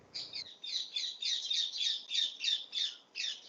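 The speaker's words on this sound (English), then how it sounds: "Somebody has beautiful birds, but I would request them to mute the background." A bird chirps in a participant's background on an online call, a fast run of about ten sharp, bright calls repeating evenly, fairly close and clear with little else around.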